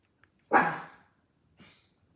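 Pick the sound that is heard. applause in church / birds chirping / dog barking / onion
dog barking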